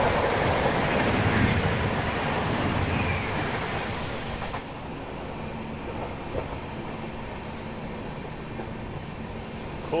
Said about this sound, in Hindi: सामने से डीजल लोकोमोटिव के साथ आ रही है अजमेर सोलापुर स्पेशल।